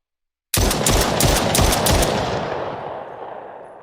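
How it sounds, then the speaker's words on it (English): Rapid pistol gunfire from a first-person shooter built in Unreal Engine 5: about eight sharp, loud shots in quick succession, then a long fading reverberant tail with no voices. "I want to test this pistol again."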